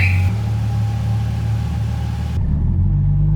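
A 2JZ-swapped car driving along, its engine giving a steady low rumble heard from inside the cabin, with a brief higher tone at the start and the engine note shifting near the end.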